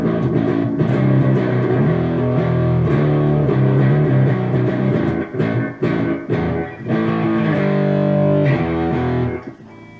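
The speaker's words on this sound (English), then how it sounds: "Echo going, I got some delay going there" Electric guitar through a Line 6 Spider Valve MkII amp on its twang amber model with drive at 75% and an echo delay effect, played as continuous overdriven chords and notes that ring out with trailing repeats, loud and alone.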